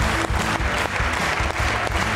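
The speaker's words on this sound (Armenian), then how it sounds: "Ծափարում ենք բարձր մեր չեմպիոնին եւ ֆեդերացիային։" A studio crowd at a club show applauds a combat-sports champion and his federation with loud, sustained clapping that fills the whole stretch, free of speech.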